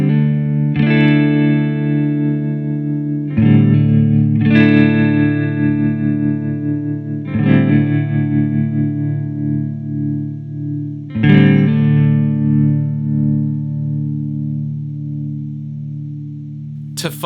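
Electric guitar played through a Danelectro Wasabi chorus-tremolo pedal, loud sustained chords struck a few times and left to ring with shimmering chorus and wavering, slightly gritty modulation.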